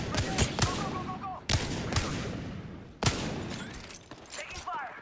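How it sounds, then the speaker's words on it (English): Gunfire in the battle royale game Apex Legends: several sharp shots with ringing tails, spaced about a second apart, with scattered smaller shots and sparkling effects between them and game voice lines underneath. "Taking fire."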